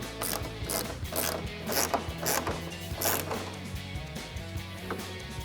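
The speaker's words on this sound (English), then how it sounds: "I'll use a 10mm ratcheting wrench. Just tighten that down." A 10mm ratcheting wrench tightens a bolt while installing a Dark Horse style rear spoiler on a 2024-2026 Mustang Fastback, giving steady rapid pawl clicks in repeated close bursts with no talking.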